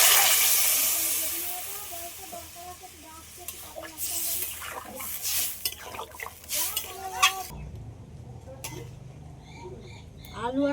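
Fish curry with potato and green banana simmering in a pan after water is added, a soft bubbling hiss with occasional utensil clinks and stirring, fairly quiet, with someone speaking over it.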